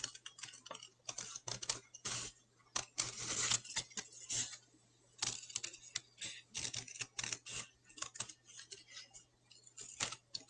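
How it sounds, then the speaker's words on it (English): Scissors snip repeatedly through paper while fish shapes are cut out along drawn lines for a shark-feeding craft, a close, quiet run of irregular crisp clicks and rustles with brief pauses. "So we're going to cut along the lines of the fish."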